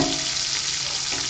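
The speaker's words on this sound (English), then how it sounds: "I can't hear with all this sizzle" Loud, dense sizzling of bacon and egg frying for a BLT with avocado, a constant hiss close by with no talking.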